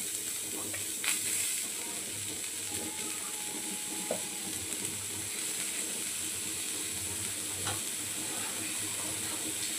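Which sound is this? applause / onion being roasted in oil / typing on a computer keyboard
onion being roasted in oil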